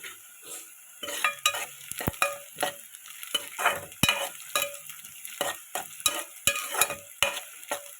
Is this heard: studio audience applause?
no